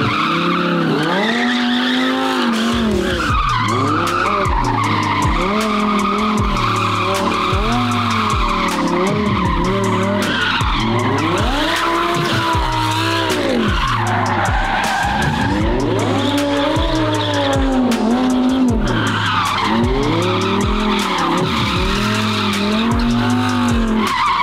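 Car tires skid and squeal repeatedly with the wheels locked up, loud rhythmic screeching bursts over a roaring race-car engine at an automotive meet.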